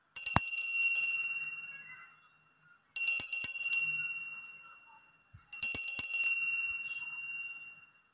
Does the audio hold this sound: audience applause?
no